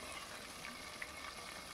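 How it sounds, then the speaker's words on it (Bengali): Bhetki fish heads and tails fry in oil until crisp, giving a faint, steady sizzle with occasional soft pops. "এবার আমি ভালো করে মাথাগুলো ও লেজাটাকে ভালো করে কড়া করে ভেজে নিচ্ছি"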